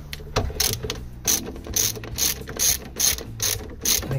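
Ratchet wrench loosening a battery tie-down bolt on a BMW E70 X5M, a close, loud series of rapid clicking bursts repeating at a steady rhythm, with no talking.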